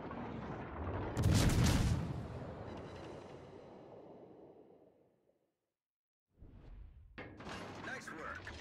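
Artillery in a strategy video game strikes a designated target: a heavy boom with a long rumbling decay, a brief silence, then a fresh barrage of crashing blasts.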